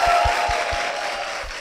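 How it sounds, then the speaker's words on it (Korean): Faint applause from a church congregation, a soft steady wash of many hands clapping in the distance with a few low thumps underneath and no voices. "박수로 모시겠습니다."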